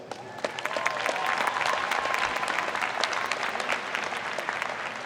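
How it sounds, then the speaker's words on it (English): A crowd at a college diploma and awards ceremony breaks into steady applause, a dense wash of many clapping hands at moderate distance that holds evenly throughout. "A round of applause, please."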